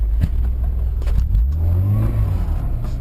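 Honda car engine revving as it pulls away in gear, a loud low rumble rising in pitch mid-way, heard close from inside the car with no talking.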